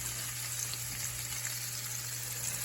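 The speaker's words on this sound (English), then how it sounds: "we're gonna fry our onions and garlic and celery" Onions, garlic and celery fry in a hot pan for an osso buco sauce, giving a steady, even sizzle. The hiss is quiet and continuous with no talking.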